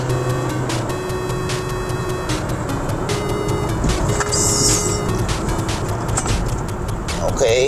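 A 2023 Honda BR-V 1.5 S CVT accelerates at half throttle in normal mode, producing a loud, steady cabin drone of engine and road noise that holds throughout with little change.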